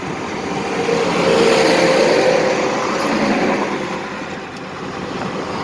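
One-ton truck towing a trailer loaded with heavy equipment at highway speed, a continuous broad road and engine roar with tire noise that swells and eases slightly, no talking.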